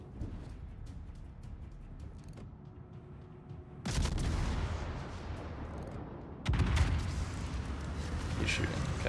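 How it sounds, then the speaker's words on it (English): Ship gunfire in World of Warships, two heavy booming bursts that each jump up loudly and linger as rumbling roars, after a quieter stretch with faint creaking, low talk underneath. "He's shooting, okay."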